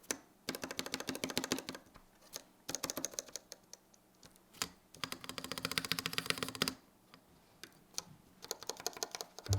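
Mechanical keyboard switches freshly fitted into a custom board, typed on in quick clattering bursts with short pauses between runs, close and fairly loud, with no voices.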